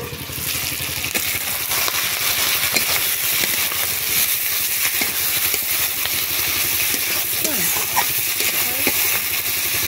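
Onion stalks sauté with spices in a pan, giving a loud, continuous sizzle and hiss with scattered crackles throughout.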